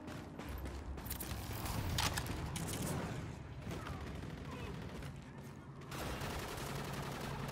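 Gunfire in a Call of Duty: Infinite Warfare hardcore team deathmatch on the Breakout map forms a dense, steady wash of shots and mechanical clatter that runs throughout without letup, with a faint voice underneath.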